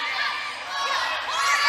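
Home crowd noise fills an indoor arena at an Indiana Hoosiers women's college volleyball match against Wisconsin in Bloomington, a steady loud roar of cheering and shouting voices that swells toward the end.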